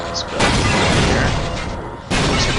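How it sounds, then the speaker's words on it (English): Half-Life explosions: loud, dense rumbling blasts fill the clip, a sustained roar with a sharp new burst near the end, close up. "Explosions!"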